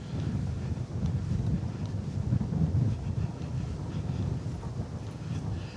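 Wind buffets the microphone in a steady low rumble while riding a bicycle along the Saimaa canal, continuous and fairly quiet with no voices.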